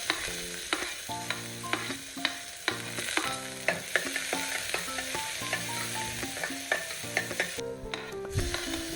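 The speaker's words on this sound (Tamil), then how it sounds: "கட் பண்ணி வச்சிருக்க வெங்காயம் சேர்த்து நல்லா வதக்கிக்கோங்க." Chopped onions sauté with cumin seeds in hot coconut oil, stirred in quick rhythmic scrapes over a steady close sizzle, with nobody speaking.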